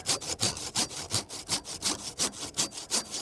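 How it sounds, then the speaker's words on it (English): A sharp hand saw cutting dead wood from a pear tree during winter pruning, with quick, regular back-and-forth rasping strokes, about fourteen in three seconds, loud and close, with no voices. "My saw is nice and sharp."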